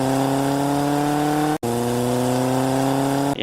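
A car's engine hums steadily and close at Mithila Haat parking in Madhubani, Bihar, with a brief drop midway as it is driven in and parked, with no talk.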